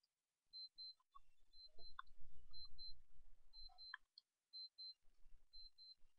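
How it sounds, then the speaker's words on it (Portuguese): Mother's alarm clock ringing in a quiet home, repeating pairs of thin high electronic beeps heard faintly from a distance, with scattered soft clicks and low thumps in between. "o despertador da minha mãe tá tocando"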